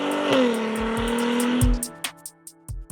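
A Jeep Gladiator Rubicon pickup with an aftermarket Borla exhaust revs hard with a deep, throaty exhaust note, then drops off into a few short blips of throttle.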